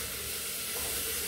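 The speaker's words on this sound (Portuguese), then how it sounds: "minha cebola já fritou." Onion frying in a cooking pan, a loud continuous sizzle and hiss that holds steady throughout, with no voices.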